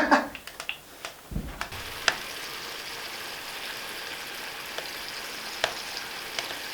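Pork chops sizzle on a homemade smoker with a steady, close hiss of frying fat, opened by a few sharp clinks and knocks before the sizzle settles into an even crackle.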